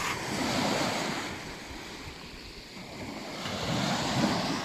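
Waves wash onto a clear-water beach, surging and receding in a loud, rolling roar with steady wind noise on the microphone and no voices.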